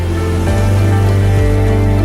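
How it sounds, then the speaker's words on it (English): Heavy rain falling at night in Venice, Italy, a steady dense hiss of downpour with a low constant rumble, close and loud throughout with no talking. "Italy is raining heavily tonight."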